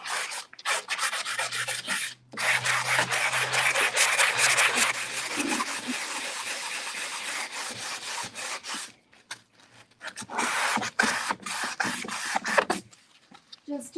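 Shop towels rubbing and wiping over dusty wood buffet furniture in a workshop, a steady close scrubbing rasp that runs in long passes with a few brief pauses.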